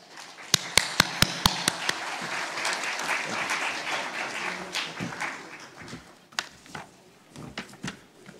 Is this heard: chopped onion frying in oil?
no